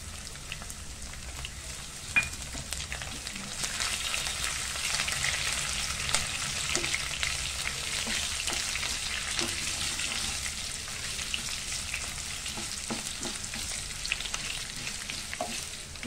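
Garlic and dried red chilies fry in hot oil in a pan, giving a steady close sizzle with occasional faint stirring clicks.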